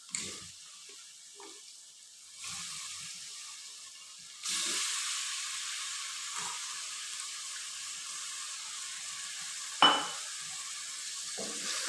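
Chicken pieces go into fried masala in a pot and set off a loud sizzle that builds in stages and then holds steady, with a metallic clank near the end, heard close.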